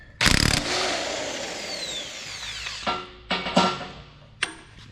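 An impact wrench on a D9H bulldozer fires a long burst while loosening anti-seize-coated bolts, followed by several shorter rattling bursts and a final quick hit, loud and close with workshop noise between.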